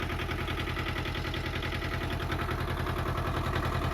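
7.3 Powerstroke diesel truck engine idling in neutral, a steady close rumble with a regular low knocking pulse throughout, no voices.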